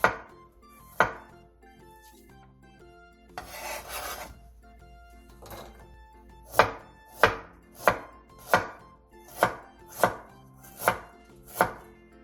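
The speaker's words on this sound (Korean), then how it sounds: "통마늘 10개와 생강 1 톨을 편 썰어주세요." A knife slices whole garlic cloves and a knob of ginger on a cutting board, starting with scattered cuts and settling into a steady run of about nine crisp, evenly spaced chops up close, with no talking.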